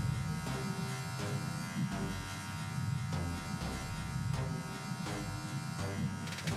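Electric hair clippers tapering a beard during a curly-top mid drop fade haircut, a steady close buzz running throughout with small shifts as the blade moves.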